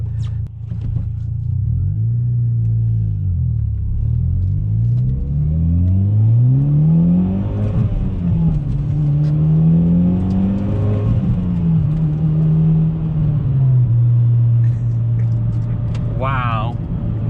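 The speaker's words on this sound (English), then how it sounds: "Maybe it's because the exhaust is pretty loud" Mitsubishi Evo X with a loud aftermarket-sounding exhaust accelerating hard through several gears, engine note climbing and dropping at each shift, loud and close from inside the cabin, with people talking over it.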